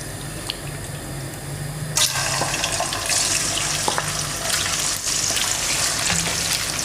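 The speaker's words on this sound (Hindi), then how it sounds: "तीन से 4 मिनट के लिए हम इसे फ्राई करेंगे।" Marinated chicken pieces for chicken Manchurian frying in a pan, a soft bubbling hiss that suddenly swells into a loud, dense sizzle partway through and stays strong, close by with no voices.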